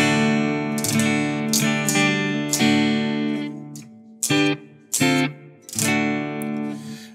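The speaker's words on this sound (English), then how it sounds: "here's the sound of the guitar" Guitar processed by the ab Chorus X ambisonic chorus effect app on iPad, strummed chords ringing with a lush, wide shimmer, loud and close, with a few sharper struck accents near the end and no talking.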